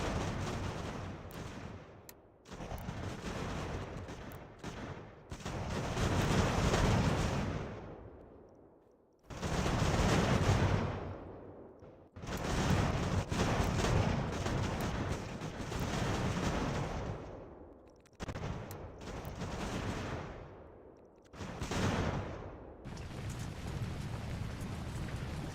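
Musket volleys and artillery fire roll through a large Ultimate General: American Revolution battle in the New York campaign, a dense, sustained crackle and rumble that swells and fades in waves with brief lulls, no voices over it.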